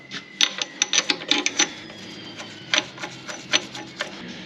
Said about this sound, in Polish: Teraz wkręcamy sobie śrubę.